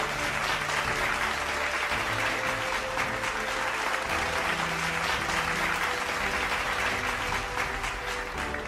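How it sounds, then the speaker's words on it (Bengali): A crowd at the Tiger Run 2025 prize ceremony applauds the first runner-up with dense, steady clapping that holds at full strength for several seconds, with no talking. "জারিফ টি চৌধুরীর জন্য একটি জোরে হাততালি।"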